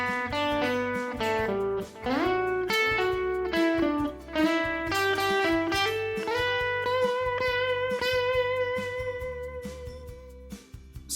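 Four bars of twangy lead guitar licks from a solo play over a steady band backing. The slides and bends are loud and clear and run continuously, with no voices.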